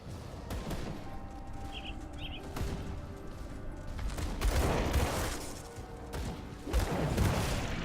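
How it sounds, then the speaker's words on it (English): Rapid bursts of explosions and gunfire-like blasts from the Grim Dawn video game, with booming impacts arriving in clusters and a dense, chaotic combat clatter throughout. "There's explosions and stuff going over here."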